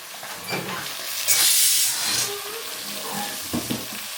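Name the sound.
sizzling tempering for bottle gourd and potato curry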